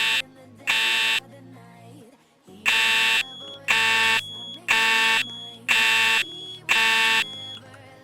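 A Roblox fire alarm sounding a temporal-3 drill pattern, loud harsh buzzing blasts in repeated groups of three with short pauses, over a faint background tone.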